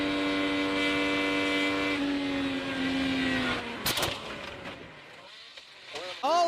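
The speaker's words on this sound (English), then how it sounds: "Oh, a crash. Jimmy Johnson in the wall." Jimmie Johnson's IndyCar strikes the wall at speed during a 2022 race, a loud engine drone cutting off into a sharp burst of impact and scraping, followed by fading noise and crowd or commentary sound.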